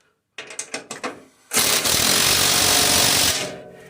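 A ratchet clicks a few times, tightening a carriage bolt on a snow blower skid shoe, then a loud, close power-tool burst runs steadily for about two seconds before winding down.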